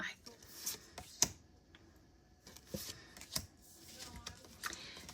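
Linen-finish Golden Light Oracle cards shuffled by hand, giving soft papery riffles and flicks with a few sharper snaps, close and quiet, with faint talk in the background.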